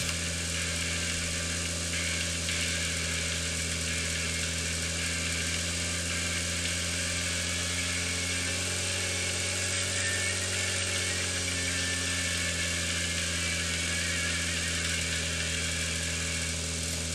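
A car engine in the PUBG video game drones steadily as the vehicle crosses the map, a loud continuous mid-pitched hum with little change in pitch or level.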